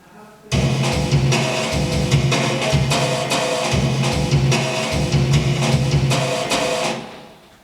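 A 1987 cassette recording of drum set practice in a practice room, a steady rhythmic groove of thudding drums and washy cymbals with a hissy, lo-fi tone, starting abruptly and fading at the end.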